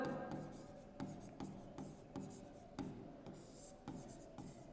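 Chalk or marker scratching and tapping on a board in steady short strokes, fairly quiet, while someone talks in Hindi over it.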